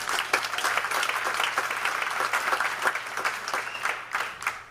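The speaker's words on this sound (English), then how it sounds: "How about one more round of applause, please?" Audience applause at a fintech demo day event, a dense, steady wash of many hands clapping at moderate distance, continuing evenly throughout.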